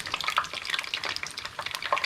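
Batter-coated potato balls for batata vada crackle and sizzle quietly in hot oil, with soft stirring and bubbling, faint and steady.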